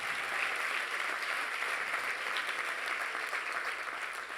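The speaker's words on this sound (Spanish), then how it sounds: "Dale un fuerte aplauso al Señor." Steady, sustained applause from a church congregation, a dense wash of clapping that stays loud and even for the whole stretch with no pauses.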